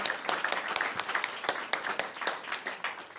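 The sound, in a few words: audience round of applause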